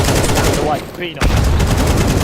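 Sustained rapid gunfire in the game Counter-Strike during a competitive match, loud and continuous with a brief lull near the middle before the shooting resumes.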